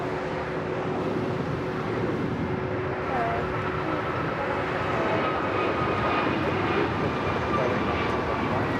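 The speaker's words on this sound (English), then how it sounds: "That was American Airlines 636 taking off to Charlotte on the A321neo." An American Airlines Airbus A321neo takes off from LAX with a sustained, moderately loud engine rumble and a faint tonal whine that swells slightly toward the end.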